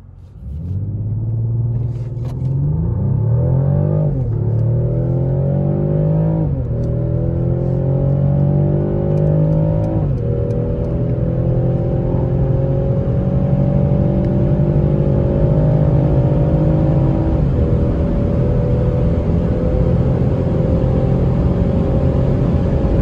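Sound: 2020 Mercedes E450 Cabriolet accelerating on the Autobahn in Sport Plus

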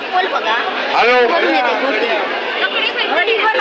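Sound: crowd chatter at the Shri Devi Bhagwati temple fair

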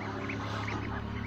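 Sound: ducks calling

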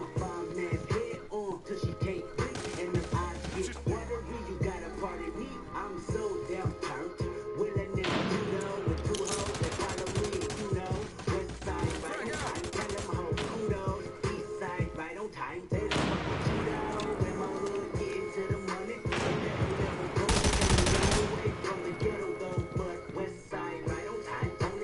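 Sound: gunfire in a shooter video game

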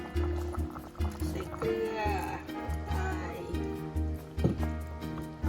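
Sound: red curry with catfish coming to a boil

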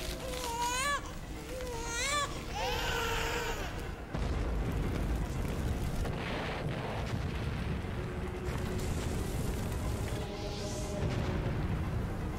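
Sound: explosions in Parasite Eve video game

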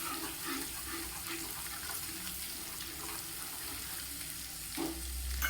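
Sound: stirring crushed sesame into whole-onion curry in pan

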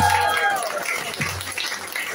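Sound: audience applause in a pub club

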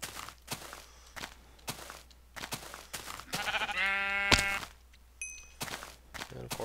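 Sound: sheep bleating in the video game Minecraft

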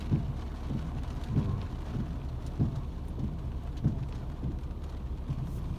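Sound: heavy rain falling in Udon, Thailand

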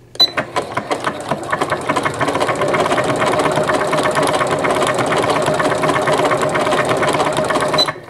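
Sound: Janome sewing machine stitching with satin stitch foot

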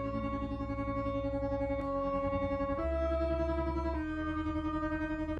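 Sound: Serum synthesizer patch in drum and bass intro

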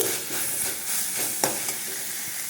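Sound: tempering frying in a pan

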